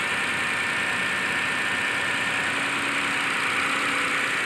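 Mitsubishi Pajero 3.8L V6 engine idling, a steady close-up mechanical hum and whir that holds evenly throughout with no voices.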